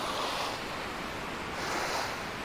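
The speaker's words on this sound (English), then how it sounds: "This is what normal waves do." Open-sea waves in the sailing game Sailwind, a steady loud wash of surf and wind that swells at the start and again near the end, with no speech.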